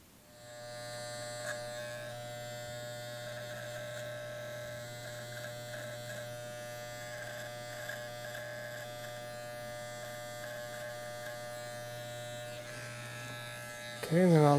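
Electric clippers or shaver buzz steadily and closely through a men's undercut haircut, shaving the side and neckline, with a steady hum throughout and a brief louder handling bump at the very end.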